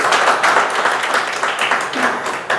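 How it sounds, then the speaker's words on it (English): Applause from a meeting audience after a table topics speech, steady clapping from a small crowd, fairly loud and close throughout. "Give me a huge round of applause."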